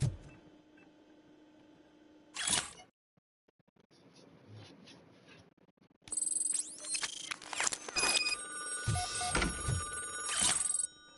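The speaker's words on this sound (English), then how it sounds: "I hear the telephone ringing." A telephone rings in the Robocop: Rogue City video game, with bursts of electronic ringing separated by a quiet gap, over faint game ambience.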